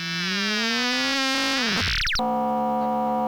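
Serge modular synth sine tones cross-modulate, sweeping and bending against each other, thick warbling harmonics gliding together before snapping into a steady buzzing chord.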